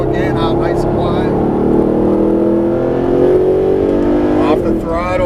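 A Mercedes-Benz SLS AMG engine pulls hard out of a corner, its loud, rising tone climbing steadily as the car accelerates, with someone talking over it.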